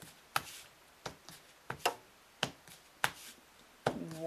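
A deck of playing cards being cut during a card magic routine: six sharp, crisp card snaps spaced unevenly, each brief and close, with quiet pauses between them.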